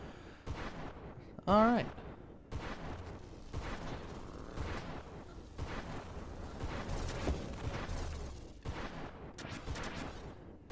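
Sonic shockwave pulse blasts from a ship in the space shooter game Nova Drift, a string of loud booming bursts with one sharp tonal zap, all under a voice talking through the clip.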